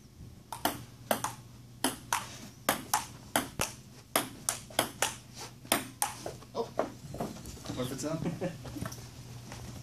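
Ping pong ball struck back and forth in a table tennis rally, with about twenty crisp, evenly paced clicks of ball on paddle and table, close and loud, then fading into voices and room noise near the end.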